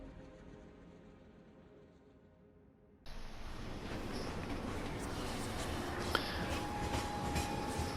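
A train rumbles along in the Final Fantasy VII Remake video game, starting abruptly after a quieter stretch as a steady, loud rolling roar with faint rattling that continues to the end.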